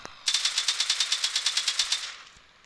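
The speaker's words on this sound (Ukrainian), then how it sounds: "Я кудись стріляю, бог знає куди." A rapid burst of about fifteen evenly spaced automatic gunshots in a video game, crisp and bright, lasting under two seconds, with no speech.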